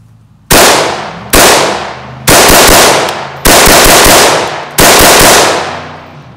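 Five loud, sharp rifle shots from a rifle in a Reap Weaponries SCY chassis, fired close and evenly spaced about a second apart, each with a ringing decay.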